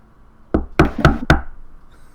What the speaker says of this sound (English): and a more insistent knock